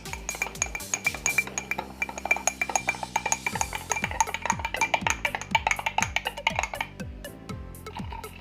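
A spoon stirs Limca soda in a glass, giving a steady run of bright, close clinks against the glass with rhythmic swirling, the clinking fast and repeated throughout with no talk.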